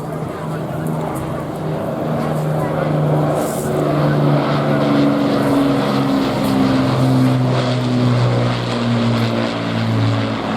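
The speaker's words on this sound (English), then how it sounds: "please welcome from the Battle of Britain Memorial Prize, the mighty Lancaster. She is very low today." An Avro Lancaster bomber from the Battle of Britain Memorial Flight passes low at an air show, its piston-engine propeller drone rising and falling continuously under a commentator's voice over the public address system.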